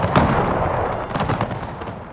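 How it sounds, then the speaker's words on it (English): Friendly cannon shot in Napoleon: Total War, a sharp boom at the start followed by a rolling clatter of distant firing and rumbling battle noise. "That was friendly cannon shot that went through"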